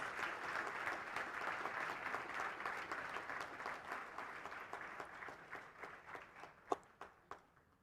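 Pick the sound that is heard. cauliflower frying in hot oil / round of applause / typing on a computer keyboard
round of applause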